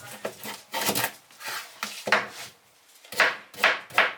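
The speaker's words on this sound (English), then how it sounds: "I usually like to cut the ends off the carrots, just my thing. Slice it endwise." A knife chops through carrots on a board in a steady series of crisp, close cuts, with brief pauses between strokes.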